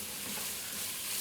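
Vegetables, garlic and smoked paprika frying in a pan for shakshuka give a steady, close sizzle, a brief unbroken crackle with no talking.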